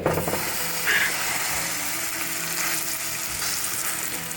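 Garlic bread crisps and fries in a pan, giving a steady close sizzle that runs for several seconds with small stirring clicks and no voices.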